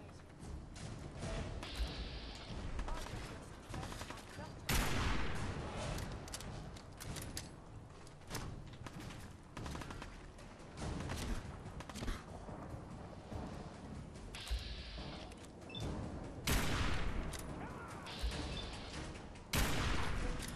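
Repeated booming blasts from a combat shotgun in the video game Fallout 4, loud overlapping bursts of gunfire and explosions over a noisy chaotic background, with a voice talking at times.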